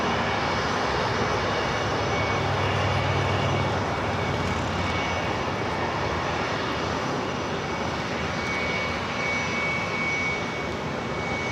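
Bombardier Global 7500 business jet at Los Angeles airport, a steady broad engine roar with a thin high whine, held at constant loudness throughout.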